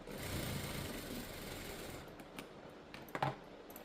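Sewing machine running a double stitch on a blouse, a steady rapid whirring hum for about two seconds, then stopping into a few soft clicks and handling knocks.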